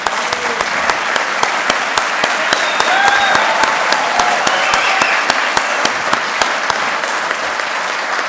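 Loud, steady applause from a crowd at a town meeting, dense hand claps running evenly throughout with a few brief voices and whoops rising above it.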